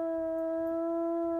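A wolf howls in the WolfQuest video game: one long, steady, tonal note held for about a second and a half with bright harmonics, clear and prominent without any talking.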